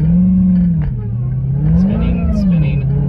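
A 2017 Dodge Charger SRT Hellcat engine drones loud and close as its tires spin, the pitch swelling and dipping with the throttle, with a voice talking over it.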